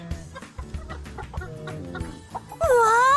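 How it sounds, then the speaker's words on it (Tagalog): Several native chickens cluck and chatter together nearby on a farm, a busy flock murmuring, ending with a loud drawn-out squawk. "ang daming mga manok ni Kuya dito"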